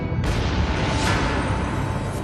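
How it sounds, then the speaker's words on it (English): Explosion at the Fukushima nuclear plant blowing the roof off Reactor Building 1, a sudden heavy boom that swells into a sustained loud, rumbling roar filling the whole clip, with no speech. "An explosion blows the roof off Reactor Building 1."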